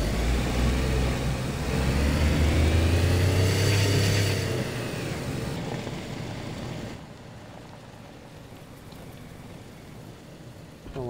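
A car engine in the DayZ survival game rumbles loudly while driving, its pitch rising and falling, then drops to a quieter idle-like hum as the car slows and stops.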